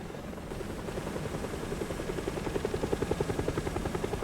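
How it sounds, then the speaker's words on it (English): Helicopter in the zombie survival video game Project Zomboid, its rotor thumping as a steady drone that grows into loud, rapid rhythmic chops as it passes overhead, with no talking. "We got a helicopter, well, flying a helicopter"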